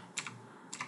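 Computer keyboard on a Windows PC being typed on: two brief, soft bursts of clicking keystrokes under a faint steady background hiss.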